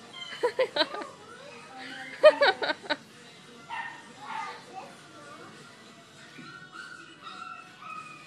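A bulldog puppy lets out small yips and whimpering sounds while being brushed, with short bursts of vocalizing close by, and people talking softly around it.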